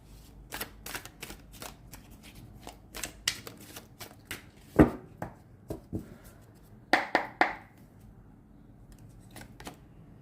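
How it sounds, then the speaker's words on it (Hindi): Tarot cards being shuffled by hand during a card reading: a run of quick, crisp riffling clicks and flutters, with a louder snap near the middle and a brief cluster of sharp taps toward the end, close and fairly quiet. "यहाँ पे 2-4 कार्ड गिरे हैं, मुझे वापस शफल करती हूँ मैं"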